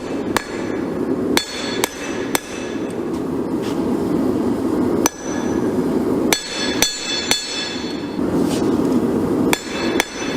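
Steady hammer blows on a steel hunting knife blank as the tip is forged to a point, sharp ringing strikes landing at an irregular pace over a constant low roar, close and loud.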